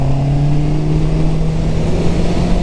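Honda CB650R four-cylinder motorcycle at full throttle, a loud steady engine drone with a rising pitch as the revs climb smoothly, heard close and alone.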